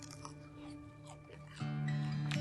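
Someone bites into a crunchy, buttery onion flatbread up close, giving a few soft crunches and chews. A louder, denser bite lands near the end.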